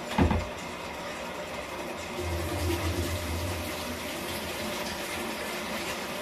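Water runs steadily from a tap with a hissing splash, a brief knock at the start, and the flow deepening slightly partway through.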